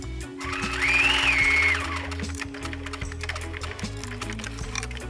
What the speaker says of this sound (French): On va ici faire un petit surjet avec le zigzag de la machine à coudre.